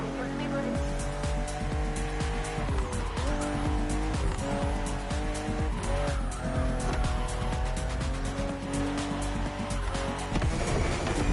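BMW CSL racing in The Crew Motorfest video game: a loud sustained engine roar with shifting pitch and tire squeal, continuous throughout, with a voice talking over it.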